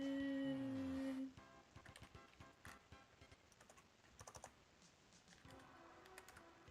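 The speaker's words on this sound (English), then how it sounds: "you hear me typing?" Computer keyboard keys tapped in quick, irregular bursts, fairly faint and close, after a brief held electronic tone at the start.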